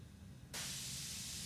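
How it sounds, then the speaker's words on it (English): After a brief low rumble, a sharp hissing spray starts abruptly and continues steadily, close and fairly loud, as matte clear coat is sprayed onto a Dodge Ram bumper cover. "I needed to spray the bumper cover matte clear"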